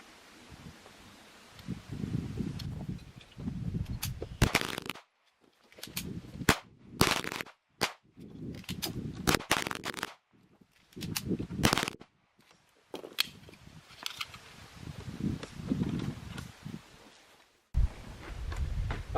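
Gunshots from a Tisas BR9 pistol during an endurance test, sharp single reports fired in irregular bursts with short pauses, loud and close outdoors, some rustle between strings of shots.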